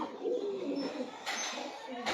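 A Sialkoti Chooha pigeon coos softly and close by, low murmuring notes running under a voice, with a couple of brief bright noise bursts breaking in.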